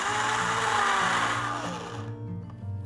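A kitchen blender grinding soaked dal with green chillies and fennel seeds, a loud continuous motor whine that holds steady, then eases and drops in pitch near the end.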